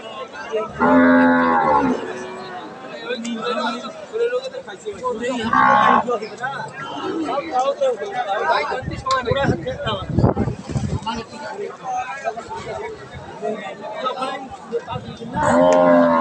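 Dairy cows of an improved breed, one giving about eight litres of milk, moo at a cattle market in Kaharol where prices are bargained. Three long, low moos sound close by, over steady crowd chatter and people talking.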